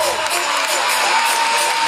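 A carnival crowd at the Corrientes Carnival 2020 cheers and applauds a carnival king's costume, a loud, sustained burst of whoops and cheering over a brief moment.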